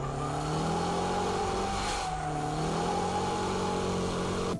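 A car engine revs hard and steadily during a drift, its droning roar rising and holding close by with no break in the noise.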